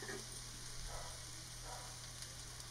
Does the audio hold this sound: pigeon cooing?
no